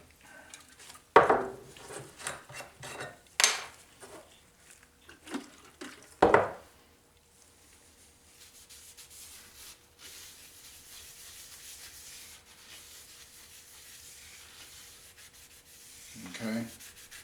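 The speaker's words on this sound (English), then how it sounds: "clean the surfaces with some lacquer thinner again, sealing surfaces" Cloth rubbing lacquer thinner over the sealing surfaces of a 3.5 HP Briggs & Stratton lawn mower engine head, with a few loud wiping strokes early on, then a long quiet stretch of faint rubbing.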